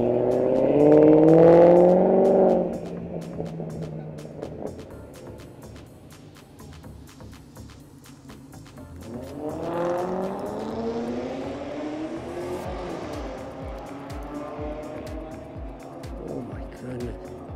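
Cars at an outdoor car meet, including a Subaru with a carbon spoiler, rev and drive past in two loud passes, an engine swelling near the start and again midway, with people talking throughout.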